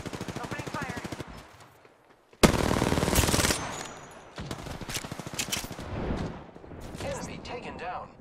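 Automatic gunfire in a video game, with loud rapid bursts of close shots that come in several long runs and brief gaps, along with a voice talking over the action.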